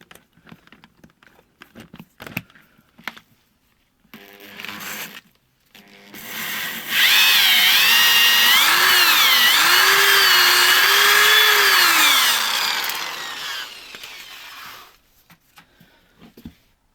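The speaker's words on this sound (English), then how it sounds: "Then we attach a drill." A power drill working on a riding mower's rear axle whirs steadily for several seconds, its pitch wavering as it works, after a few light knocks and handling sounds; it then winds down.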